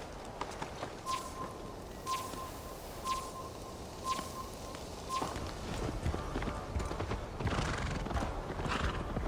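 Horse in the Assassin's Creed Valhalla video game, a clear, regular clip-clop of hooves trotting close by with a whinny, soft ambient birdsong and game effects around, no talk.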